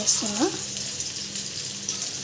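Amaranth leaves fry in a pan while being stirred, giving a steady sizzling hiss with a brief tonal squeak of the utensil near the start, close and moderately loud.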